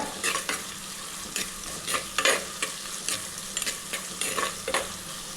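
Onions sizzling in a pan as they fry golden for mutton curry, a steady close crackle broken by repeated scraping stirs, with no one talking.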